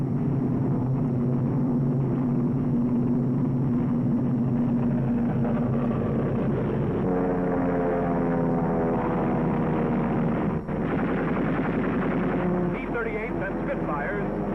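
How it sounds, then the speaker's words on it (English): Piston engines of World War II P-38 Lightning fighters climbing to attack make a steady, droning roar whose tone rises and layers into several harmonics midway. "American P-38 rise to the attack."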